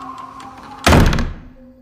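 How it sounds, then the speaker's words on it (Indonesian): A front door swings shut with one loud, close thunk and locks, the slam decaying over about half a second, with a quiet hum before and after. "pintu depan tertutup dan terkunci dengan sendirinya"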